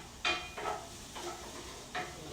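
About three cloves of crushed fresh garlic sizzle in a hot pan, with several close bursts of sizzling and stirring scrapes against the pan and no talking.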